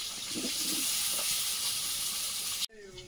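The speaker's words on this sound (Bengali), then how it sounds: "আলুগুলো একটু ভেজে নেবো" Potatoes fry in oil for khichuri with a loud, close, continuous sizzling hiss and some lower bubbling, then the sound cuts off sharply, followed by a faint short tone.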